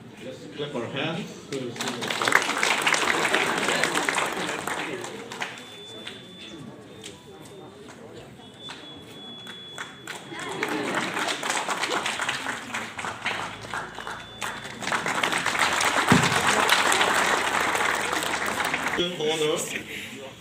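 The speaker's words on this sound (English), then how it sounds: "Let's clap our hands." An audience claps hands at a school half-yearly examination results ceremony, with bursts of applause rising and falling in waves between stretches of a presenter speaking over a loudspeaker.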